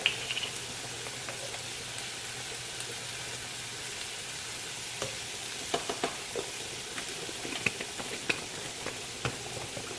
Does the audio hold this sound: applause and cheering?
no